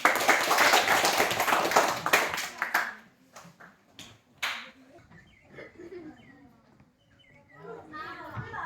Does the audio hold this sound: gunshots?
no